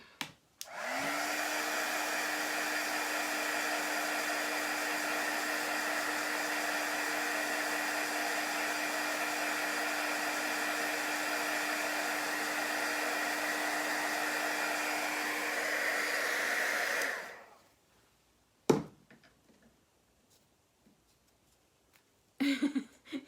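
Hair dryer blowing on chalk paste over a door hanger, a steady loud whoosh with a constant hum for about sixteen seconds, then switched off, followed by a couple of faint knocks.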